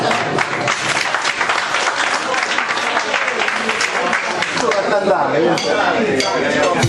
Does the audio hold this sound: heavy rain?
no